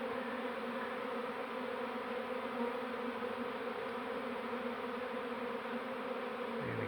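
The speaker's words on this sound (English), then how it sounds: "And bees are starting to go in." Dense, steady buzz of a large honey bee swarm during relocation of a hive from inside a brick wall, a continuous close droning hum with no talk over it.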